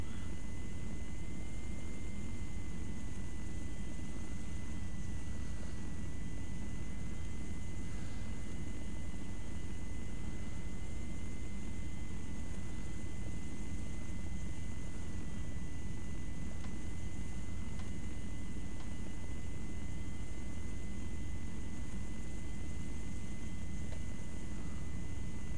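A helicopter in ARMA 3 flies on in a constant, dense rotor and engine drone that fills every moment evenly, with no voices.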